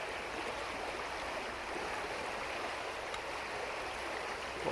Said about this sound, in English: this stream gets really, really high and busy